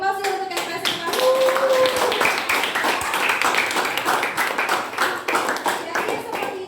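A classroom of students claps for their presenters, a burst of many hands that carries on for several seconds with voices mixed in.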